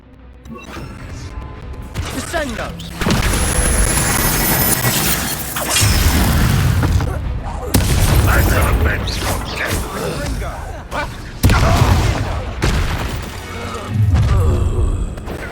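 Repeated loud blasts, crashes and shattering impacts from Confringo fire spells in Hogwarts Legacy combat on Xbox Series X, hitting in bursts across the scene with voices calling out between them.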